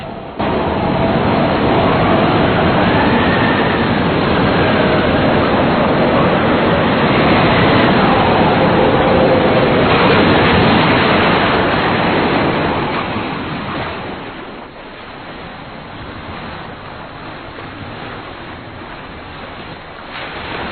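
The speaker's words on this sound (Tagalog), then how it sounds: "Tingnan nyo, mahina ng alon." Ocean waves surge and wash heavily for several seconds, then fade into a quieter, gentler lapping.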